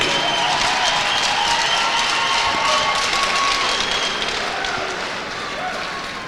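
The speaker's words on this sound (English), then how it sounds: "a big round of applause for AK Bars Academy" A crowd at a hockey opening ceremony applauds the AK Bars Academy team, a dense, steady roar of clapping filling the arena that fades slightly toward the end.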